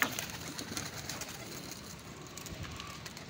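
Soft pigeon cooing in a low, repeated murmur against a faint background hiss, with no voices.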